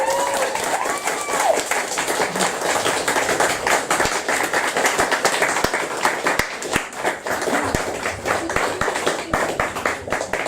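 An audience at a modern poetry night applauds poet Chloe Orrock with lively clapping and sharp individual claps, sustained and close, while a voice speaks over the applause.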